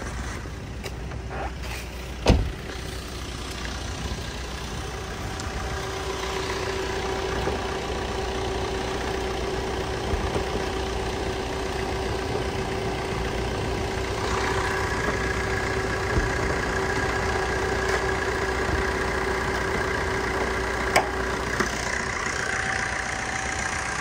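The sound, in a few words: Maruti Swift VDI diesel engine idling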